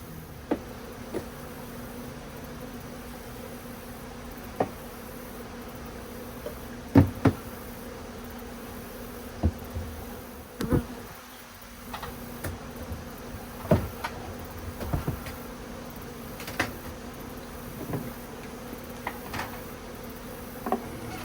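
Honey bees buzz around beehive supers outdoors, a soft continuous hum with individual insects droning past the microphone now and then, plus a few light knocks and taps scattered through the stretch.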